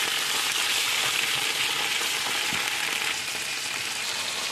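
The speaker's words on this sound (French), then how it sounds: "vais revenir de l'ail et échalote dans la poêle" Garlic and shallot sauté in a frying pan, giving a steady, close, bright sizzle that continues without a break and with no talking.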